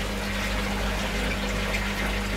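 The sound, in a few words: clean water being poured into a koi tank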